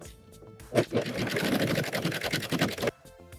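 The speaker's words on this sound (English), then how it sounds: "Now when I get about halfway into the other strap, I'm going to serge off" A serger sews a seam on a halter swimsuit, giving a close, steady mechanical whir that runs for about two seconds before stopping, with quiet handling sounds around it.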